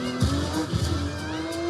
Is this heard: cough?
no